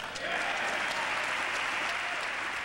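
Sustained audience applause following a presidential speech, a dense wash of many hands clapping at a steady level throughout, heard from a distance like a large hall.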